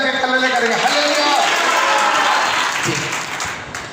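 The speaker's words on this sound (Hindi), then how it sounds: "जोर से ताली बजा के हालेलुया करेंगे" A congregation at a Hindi-language church sermon claps loudly together in a dense burst of applause that gradually thins and fades toward the end.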